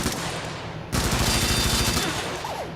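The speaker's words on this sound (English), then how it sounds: "let's go ahead and shoot the other one" Gunfire rips at machine targets in a Helldivers tutorial, loud rapid bursts of automatic shots that briefly pause, then resume as a dense rattling volley before tapering off.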